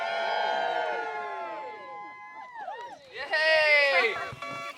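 Wedding guests at Linton Gardens cheer, whoop and shout together to welcome the newlyweds, a loud swelling crowd roar that dips briefly and then surges again near the end.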